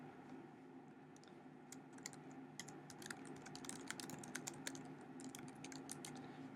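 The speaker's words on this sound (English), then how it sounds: "Type in a name for your skill cluster, click Save" Quiet, rapid typing on a computer keyboard, irregular clusters of light key clicks over a faint steady hum.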